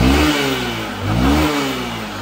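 A farm motorcycle engine is revved as the throttle opens, its close, loud mid-pitched roar rising and falling in two or three surges without any talking.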